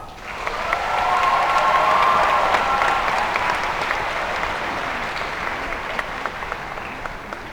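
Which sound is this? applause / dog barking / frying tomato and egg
applause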